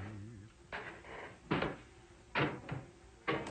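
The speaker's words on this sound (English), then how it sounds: "Somebody's knocking again." Someone knocks on a door, with three separate solid thuds spaced about a second apart over a low hum of background noise.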